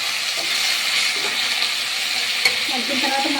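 Capsicum masala curry being stirred in a pan, a steady close sizzle and frying hiss with soft scraping of the spoon running throughout, no voices.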